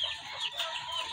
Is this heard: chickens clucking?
yes